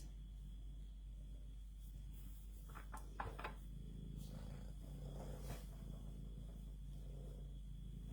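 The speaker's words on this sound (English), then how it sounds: "Cat's back again." Faint, close purring from a cat in a quiet indoor room, a soft low continuous rumble with a few light clicks and knocks scattered through it, no talking.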